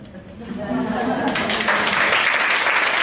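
An audience applauds Pierre, a trainer, at a leadership talk. The clapping swells from light to full, steady applause within a second or so and stays loud, with a voice over the start.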